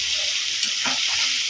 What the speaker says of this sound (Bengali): এরকমভাবে প্রায় 2 থেকে 3 মিনিট একটু নাড়াচাড়া করে নেব।